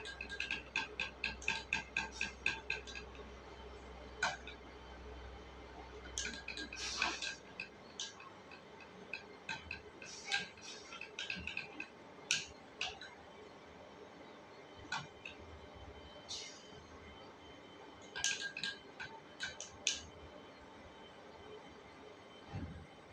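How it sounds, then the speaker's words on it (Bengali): Food being stirred continuously in a pot, with a rapid series of light metallic taps at first, then scattered scrapes and clinks of the spoon against the pot, quiet and close. "এভাবে নাড়তে থাকবেন।"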